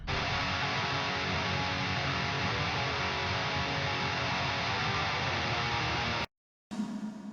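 Black metal guitar track heard alone, a wall of heavily distorted, fizzy tremolo strumming that stays loud and constant for about six seconds, then stops abruptly.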